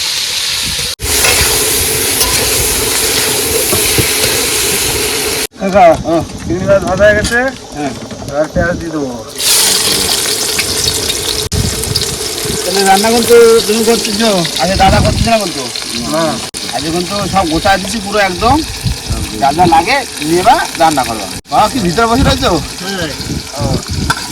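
Fish fries in hot oil in a pan, a loud continuous sizzle and hiss with bursts of spattering as the pieces are moved and turned, while people talk over it throughout.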